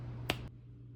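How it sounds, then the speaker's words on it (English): A single sharp finger snap, close and crisp, standing out against a faint low hum in an otherwise quiet room. "I guess I'll snap my fingers"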